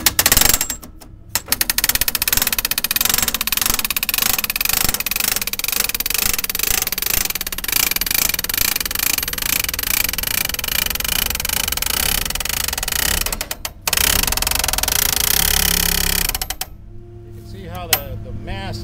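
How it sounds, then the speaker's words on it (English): Truck-mounted hydraulic hammer driving a soil probe into the ground, a loud, rapid, continuous mechanical hammering over an engine drone, briefly stopping, then resuming before it cuts off at the end. "Here's the hammer on."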